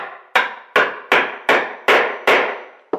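A mallet drives a chisel into a routed hole in wood while fitting veneered furniture doors, six loud, evenly paced woody knocks with ringing tails, ending on a lighter tap, no talking.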